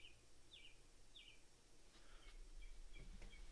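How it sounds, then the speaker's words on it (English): Bird song drifting in from outside, a few short repeated chirping phrases at moderate distance over a steady background hum, with faint insect-like ticking later. "What bird is that outside? The bird's having an absolute field day."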